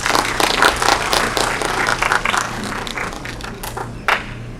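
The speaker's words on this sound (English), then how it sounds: "A round of applause, please." Graduation ceremony audience at a law school event applauding, a dense wash of clapping that is loud at first, then eases and thins out, with a few sharper claps near the end.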